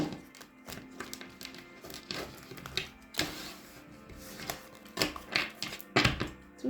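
Tarot cards are shuffled and split by hand in brisk bursts of papery slaps and riffles, close and fairly quiet, with no voice over them.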